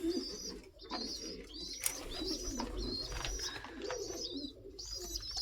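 Young pigeons in a loft coo softly and repeatedly, with soft rhythmic calls and faint chirps over a quiet indoor background.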